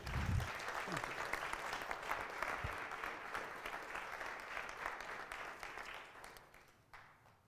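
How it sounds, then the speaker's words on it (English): Sustained audience applause at a conference, dense and steady clapping that continues for several seconds before thinning out and fading near the end. "A huge round of applause for Tahir ji."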